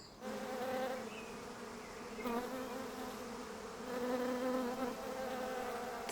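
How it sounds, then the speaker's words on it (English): Bees buzz among spring flowers in the garden of Gravetye Manor, West Sussex, a steady close drone with wavering pitch as insects pass near the microphone, heard alone without talk. "The sound of bees is the sound of spring, as they make their way from flower to flower"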